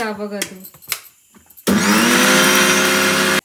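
Cumin, salt and garlic are ground in a mixer grinder. Voices and kitchen clatter come first, then the motor kicks in with a loud, steady whirring roar that runs to the end.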